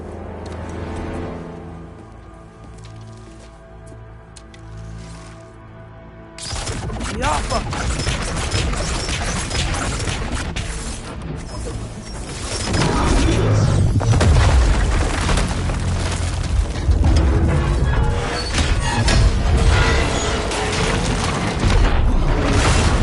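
Gunfire and explosions from the video game God of War Ragnarök on PS5, a dense, loud stretch of booming blasts and rattling bursts that grows heavier midway, with brief speech underneath.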